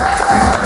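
A charity concert audience cheers and shouts in a brief, loud burst, with a dense crowd roar and some applause mixed in.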